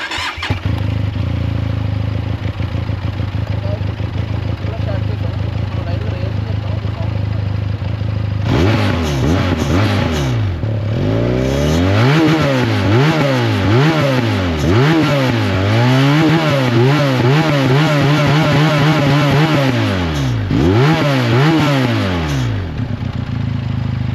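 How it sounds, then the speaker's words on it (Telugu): A Benelli 502C motorcycle engine with stock exhaust starts and idles, then revs up and down repeatedly in rising and falling surges before settling back, loud and close. "దీని ఇంజిన్ ఒకసారి ఆన్ చేసి చూపిస్తాను. దీని సైలెన్సర్ సౌండ్ ఎలా వస్తుందో, ఎగ్జాస్ట్ సౌండ్"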